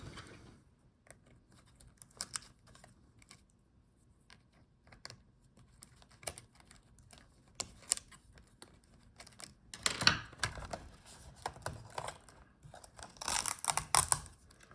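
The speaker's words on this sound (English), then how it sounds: "Let's disconnect the keyboard." A Dell Latitude 7530 laptop keyboard being disconnected during a teardown, heard as quiet, scattered plastic clicks, ticks and crinkling taps with a denser cluster of handling noises toward the end.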